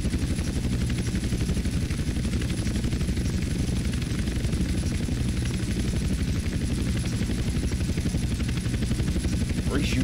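A helicopter in GTA San Andreas Definitive Edition gives a loud, steady rhythmic rotor thump with a low engine drone that holds throughout and never lets up.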